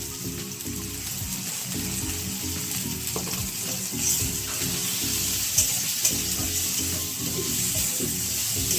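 Turmeric and chili powder fry in hot oil in a pan, a steady close sizzle with stirring scrapes and small spattering pops, no voices.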